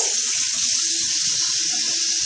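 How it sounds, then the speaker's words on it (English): Tap water runs steadily into a sink as someone rinses their hands under it, a close, continuous splashing rush with no talking. "First thing I'm going to do is wash my hands off a little bit."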